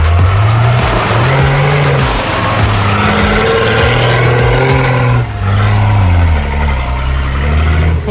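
Nissan Patrol engine revving loudly off-road on rough terrain with a punctured tire, pitch rising and falling through repeated throttle bursts as the tires slide and scrabble, close and continuous.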